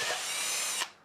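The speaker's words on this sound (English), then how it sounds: "I'm going to take a small bit, maybe a 1/4 inch bit, drill in there" Power drill boring into a guitar body cavity with a 1/4-inch bit, a loud steady high whine running about 0.8 seconds before cutting off abruptly, with no voices.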